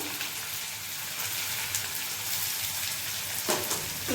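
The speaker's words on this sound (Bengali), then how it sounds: "এবার এখানে আমি পেঁয়াজ দিয়ে দেবো। আদা রসুন কুচিটাও দিয়ে দেবো।" Chopped onion, ginger and garlic frying in a pan for a bottle gourd (lau) kofta curry give a steady, close hiss of sizzling oil that runs unbroken, with no voices.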